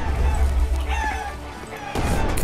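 Cartoonish chickens clucking and squawking in the game Chicken Overrun, a dense flurry of fowl calls over a steady low rumble of game noise.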